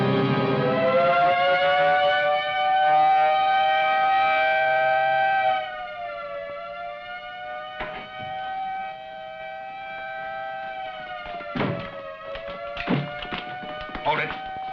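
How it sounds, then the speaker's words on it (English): A prison general alarm siren wails steadily, holding a sustained rising and falling tone, with a few thuds and knocks breaking through toward the end. "Sound the general alarm."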